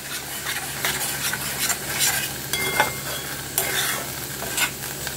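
Turmeric and yogurt-marinated chicken sizzling in hot oil in a pan, with a steady close frying hiss broken by repeated scraping stirs of a utensil against the pan and no voices.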